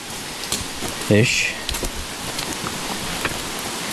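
Light rain hisses steadily over the Appalachian Trail in Maine's 100 Mile Wilderness, forming a soft, even background with occasional louder drips, while a person briefly speaks nearby.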